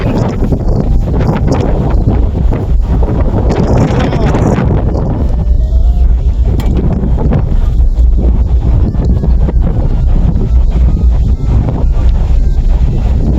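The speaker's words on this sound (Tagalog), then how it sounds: "Lakas ang hangin, oh." Strong wind gusting across the open deck of a local cruise ship sailing near Iloilo. The wind pounds the microphone with a loud, continuous rumble and roar throughout, with voices talking faintly underneath.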